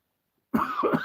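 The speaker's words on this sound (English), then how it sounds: "Excuse if I cough sometimes." After silence, a single short, rough cough bursts out close by, with a throaty follow-through.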